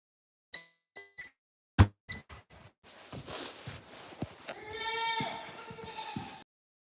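A few knocks and clanks in a shop come first, then goats bleat in a long, wavering cry, fairly close.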